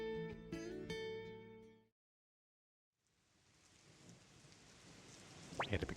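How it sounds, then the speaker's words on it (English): Rain in the PS1 role-playing game Suikoden I: Gate Rune War Remastered begins after a short musical jingle and a moment of silence, a steady hiss that slowly swells, topped by a brief sharp chime at the end. "And it begins to rain."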